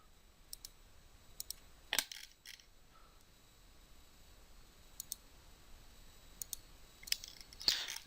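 Sharp, isolated clicks of a computer mouse, a few scattered single taps spread across a quiet background while a 3D apartment render is worked on.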